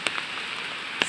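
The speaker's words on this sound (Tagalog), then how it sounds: "Madidinig niyo ba yung tunog ng patak ng ulan sa aking payong?" Raindrops patter on an umbrella during a walk outdoors, a steady soft hiss with two sharper louder drop hits near the start and end.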